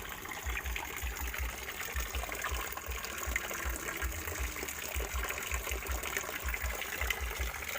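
Water sloshing and gushing steadily while a potted Thai taro-type aroid plant is set to soak in a shaded spot, with a continuous close wash and low thumping throughout.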